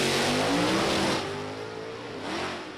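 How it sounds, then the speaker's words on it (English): A Ford Cobra Jet drag racing car at an NHRA drag strip revs hard, its loud engine note climbing then easing off and rising again across a few seconds, with no talk over it. "You can hear that motor just reaching for the sky."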